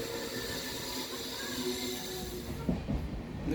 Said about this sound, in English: we are pulling into platform number 1 of Kasaragod station